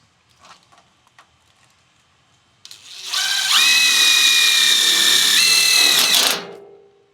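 A power drill runs for about three seconds, driving a screw into a plastic pool panel during a DIY stealth pool build. Its whine is loud and steady, with a slight rise in pitch partway through, and it starts and stops cleanly after a few faint taps.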